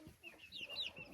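Young Ameraucana chickens, a black-and-white rooster and two black hens, give soft, faint clucks and chirps for about a second, with no voices over them.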